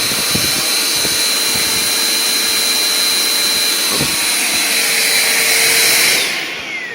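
A Bissell Powerforce Compact vacuum cleaner runs steadily with a loud, constant motor whine and airflow roar, then its pitch drops and fades as it winds down near the end.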